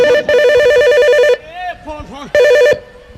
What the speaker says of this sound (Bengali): ওই রে বাবা ফোন রে ওই রে ফোন